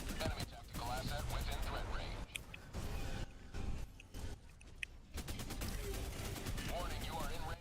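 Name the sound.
enemy artillery fire in video game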